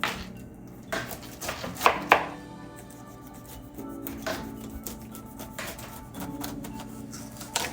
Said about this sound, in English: Okay, so we're going to cut this pineapple now.